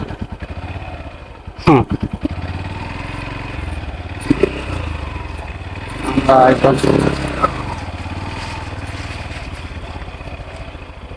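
A motorcycle engine runs nearby at the India–Bangladesh border in Sherpur, idling and then briefly revving, with people talking over it and some clattering.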